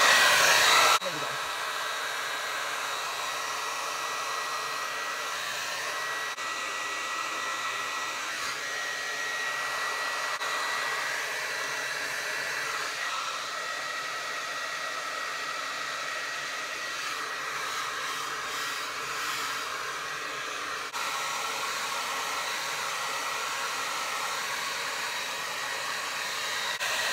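A hair dryer blows on high heat while hair is styled with a round brush, a steady loud whooshing hum that runs unbroken for the whole stretch, with slight shifts in tone as it moves and no talking.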